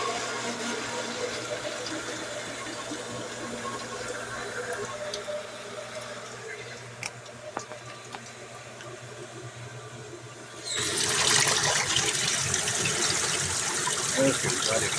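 A well pump pushes water through a pipe into a bucket, first as a steady background hum and trickle, then a loud, close gush as the flow surges and keeps running.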